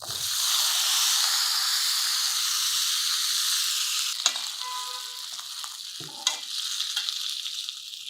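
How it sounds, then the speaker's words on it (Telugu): Rice dumplings fry in a tempering of oil with green chillies, curry leaves and sesame, hissing in a strong continuous sizzle that fades slightly, then two sharp spoon scrapes as they are stirred. "ఒక 2 నిమిషాలు పోపు వాసన వీటికి పట్టేదాకా అలాగా వేగనిస్తే సరిపోతుంది"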